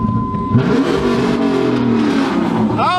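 A 2012 Hemi V8 fitted with long tube headers revs hard, rising with a deep, loud exhaust roar after a brief tone at the start, then dropping back near the end as the throttle lets off.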